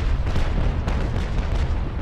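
A sailing warship's cannon broadside in Naval Action rolls out as a continuous barrage of deep booms, loud and rumbling, with individual shots blending into a thick low roar for about two seconds.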